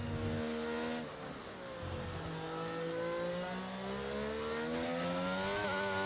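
A race car accelerates hard onto a flying lap at the Azerbaijan Grand Prix, its engine note climbing through the gears in clear rising sweeps, loud and close with no talk.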